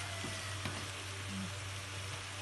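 Eggs for scrambling sizzle steadily in a hot pan, a continuous close frying hiss with a few faint clicks of utensils.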